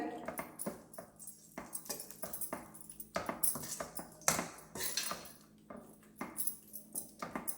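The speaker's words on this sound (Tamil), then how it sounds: "இது போட்டுட்டு நல்லா கலக்கி விட்டுடலாங்க." Spoon clinks and scrapes against a bowl while appalam gravy is stirred, irregular metallic taps and swishes up close at moderate loudness, with a quiet voice briefly in the background.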